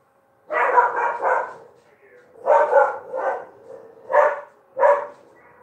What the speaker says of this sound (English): She keeps barking because she keeps herself hearing herself barking in the computer